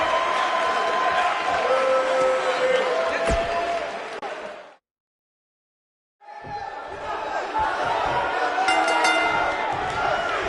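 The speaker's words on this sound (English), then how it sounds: "We've got an animated crowd here tonight, as we usually do when we're in Orlando" Wrestling crowd at a Stone Cold Steve Austin versus The Rock title match in Orlando: a loud arena roar with cheering and shouts, a sharp slam partway through, then a brief silent gap before the crowd noise returns.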